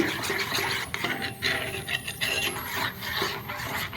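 Milk powder being mixed into lukewarm water, a steady scraping and rasping of a utensil against the container, close and continuous with small rhythmic surges.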